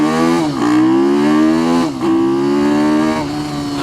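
An Ohvale GP-0 190 minimoto engine on a top-speed run screams loud and close, its pitch climbing steadily and then dipping briefly at three gear changes before rising again.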